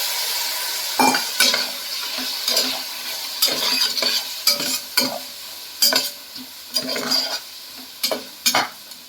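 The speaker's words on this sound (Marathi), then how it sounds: "आणि जे वाटाणे आपण धुतलेले होते ते आपण याच्यामध्ये टाकू." Washed peas tipped into hot turmeric-spiced oil and stirred, a close sizzle broken by repeated scraping spoon strokes and clinks against the pan in an uneven rhythm, no talking.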